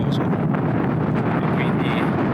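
Strong gusting wind buffets the microphone at a mountain valley lookout, a loud, constant roaring rumble filling the whole short stretch.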